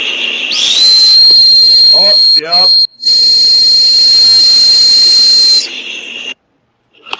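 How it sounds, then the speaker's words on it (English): A recorded dog whistle is played back as a steady, piercing high tone that holds for about five seconds before cutting off, with a voice briefly speaking over it. "sent me a recording of his dog whistle, so I'm going to go ahead and play that real quick"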